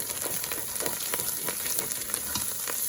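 Dry ginger, turmeric and salt sizzle in a pan for Punjabi rajma, a constant hiss of frying broken by a few soft, regular scrapes of stirring.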